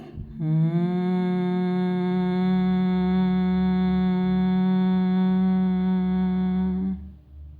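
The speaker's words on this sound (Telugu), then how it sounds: "శ్వాస వదులుతూ హమ్మింగ్ సౌండ్ చేయండి." A person hums through a long exhale during a breathing exercise, one steady, loud, close tone held for about six seconds before fading out.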